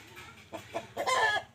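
A rooster, one of twelve cockerels offered for sale, gives a few short clucking calls close by, rising into a brief louder squawk near the end over faint background noise.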